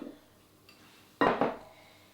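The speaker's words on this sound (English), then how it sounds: "in goes the carrots" Carrots drop into a slow cooker while braised beef cheeks are being prepared: two quick clattering thuds in close succession, near and fairly loud, after a short quiet pause.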